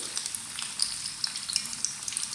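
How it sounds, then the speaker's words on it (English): Dense, bright crackling and bubbling of egg bondas deep frying in hot oil, steady and close with small popping bursts throughout. "you can see that all the 3 egg bondas are frying nicely"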